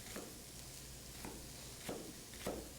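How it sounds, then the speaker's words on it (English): Red onions sizzling in a cast iron skillet, a soft steady frying hiss with a few scraping stirs at regular intervals, quiet and close. "I've got a cast iron skillet here that we're gonna toss in some red onions"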